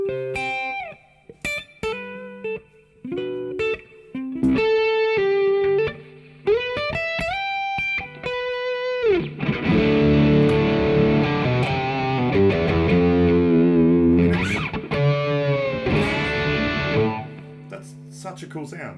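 High-gain electric guitar through an amp simulator with reverb: single picked notes and short phrases at first, then thick sustained distorted chords ringing out, loud and up close.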